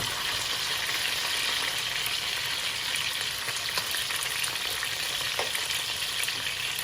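Close, continuous sizzling and spitting of fish frying in a hot pan, with no talking.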